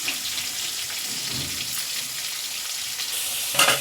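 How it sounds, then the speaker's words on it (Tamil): Onions and tomatoes sauté in a hot pan with a steady, close crackling sizzle throughout, and a brief louder burst of spatter near the end. "இப்போ நம்ம வந்து இந்த வெங்காயம் தக்காளி எல்லாம் நல்லா வதங்கிடுச்சு"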